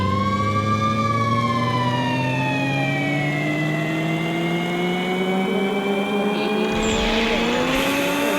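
In a video game, a police car's wailing siren rises and falls over the steady roar of its engine, loud and continuous, as it drives along with a brief rumble near the end.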